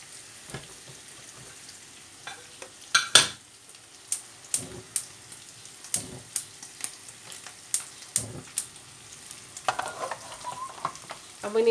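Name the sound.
aubergines frying in olive oil in a pan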